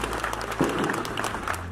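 A crowd of delegates at an association event applauds steadily as representatives greet each other, a dense, even patter of clapping heard from within the room.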